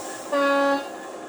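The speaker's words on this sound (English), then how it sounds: "Function 3, we've got a low tone air horn." A single low-tone air horn blast from an Accurascale Class 66 model locomotive, steady and clear, sounds for about half a second against quiet background hiss.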